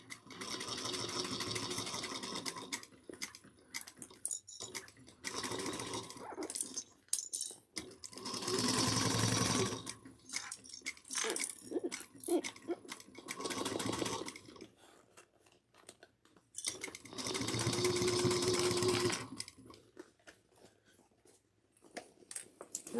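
A domestic sewing machine stitches bag handles in several loud bursts of rapid mechanical whirring, with quiet pauses and small handling clatter between runs.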